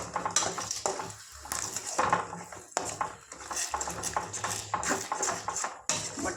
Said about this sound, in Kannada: ಸ್ವಲ್ಪ ಅರಿಶಿನ ಪುಡಿ, ಸ್ವಲ್ಪ ಉಪ್ಪು, ಇಷ್ಟನ್ನು ಹಾಕಿ ಚೆನ್ನಾಗಿ ಮಿಕ್ಸ್ ಮಾಡಿ